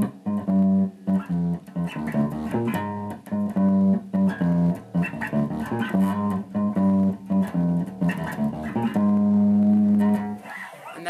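Bass guitar playing a riff, a busy run of plucked low notes with steady driving rhythm, close and loud, ending on a held note, with no voices.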